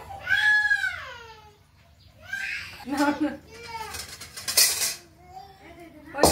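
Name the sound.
child playing with ladles and kitchen utensils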